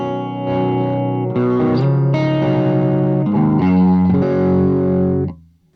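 Electric guitar played through a mini amp with the gain set to zero, a few sustained chords and notes ringing close and clean, then stopping abruptly near the end.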